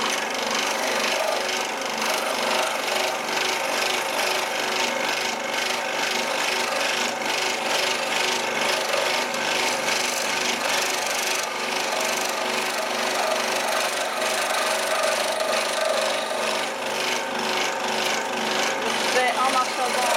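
Scroll saw blade cutting through wood, a steady close buzzing rasp running continuously, with someone speaking over it now and then.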